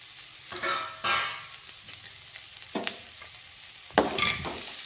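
Chopped cabbage frying in a pan, with bursts of sizzling and scraping stirs coming in waves, loud and close, and no talking.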